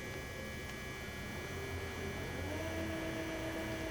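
A Colchester Combi 4000 CNC/manual flat bed lathe, 21 by 80 inches, runs after a gear change with a steady low mains-like hum and faint tonal whine, quiet and continuous with no talk.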